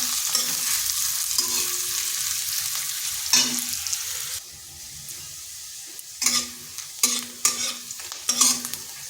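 Finely chopped garlic, with some onion, sizzles in hot oil as a spatula stirs it in the pan. The steady frying hiss drops back, then returns in several sharp scraping bursts.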